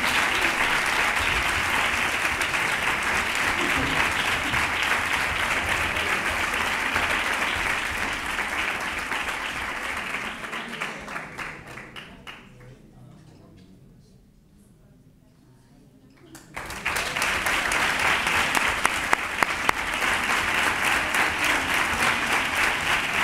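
Audience applause at a Three Kings proclamation event in Nerva: sustained loud clapping from a large crowd that fades down to near quiet midway, then swells back up to full strength.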